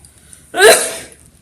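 A single loud, sharp sneeze bursts out close by, short and breathy, with near silence before and after.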